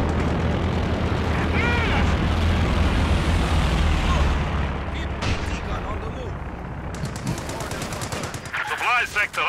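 Machine gun fire rattles through a loud Company of Heroes battle, layered with explosions and aircraft rumble, while a voice talks over the din.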